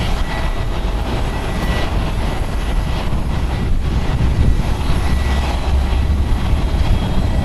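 A 12-year-old Boeing 777-200ER jetliner arrives at Tokyo Haneda Airport, its engines a loud, continuous low rumble and roar that swells slightly toward the end.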